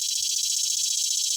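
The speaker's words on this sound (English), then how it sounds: "is a very noisy cicada." A cicada buzzes in a loud, continuous high-pitched drone that holds steady throughout.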